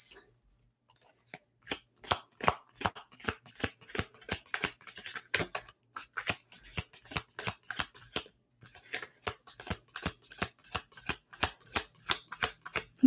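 Tarot cards being shuffled, a long run of crisp, rapid riffling snaps and flutters, close and fairly loud, in steady bursts with brief pauses and no talking.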